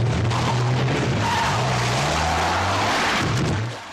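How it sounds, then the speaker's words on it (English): Tyres skid and squeal as a Porsche 911 races a Lada 1300 in a car chase from a Polish movie, engines roaring loudly throughout with several sliding squeals before fading out. "This Polish movie features a car chase between a 911 and a Lada 1300."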